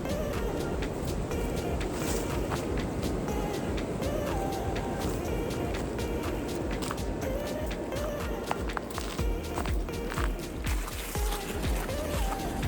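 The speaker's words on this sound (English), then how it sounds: "this wind is brutal" Strong, cold wind on an Appalachian Trail ridge above Cooper Gap in winter, with gusts near 45 mph: a loud, constant roar buffeting close to the mic, along with crunching footsteps and rustling throughout.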